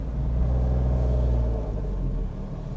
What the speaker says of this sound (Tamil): வண்டி ரொம்ப மேலே ஏறதுக்கு கஷ்டமாக இருக்குங்க, ஏன்னா நல்ல மேடு